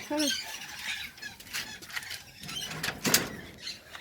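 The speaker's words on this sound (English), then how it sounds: "If I can get the door open." An aviary door is pried open, with short squeaky scrapes and rattles at the start and a sharper creak a few seconds later. Faint bird chatter runs in the background.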